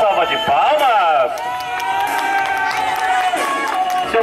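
At a birthday party a crowd claps and cheers amid loud voices and shouting. The rapid clapping carries on under the talk.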